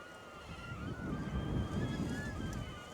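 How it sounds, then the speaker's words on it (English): Strong wind buffets the microphone in a steady low rumble, with waves and a boat engine humming faintly underneath. "Oh, so windy."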